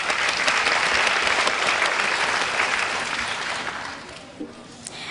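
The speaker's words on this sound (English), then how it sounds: "Give yourself a big round of applause, parents, guardians, and grandparents." Audience of parents, guardians and grandparents applauding at a school graduation ceremony, a loud, dense wash of clapping that holds steady before gradually thinning out.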